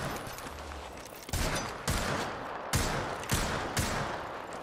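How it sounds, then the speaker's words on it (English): Gunfire in the video game Apex Legends, several sharp broadband shots spaced about half a second to a second apart over a dense, noisy game mix, with no one speaking. "From where is this guy shooting?"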